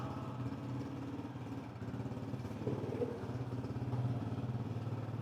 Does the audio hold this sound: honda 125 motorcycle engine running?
yes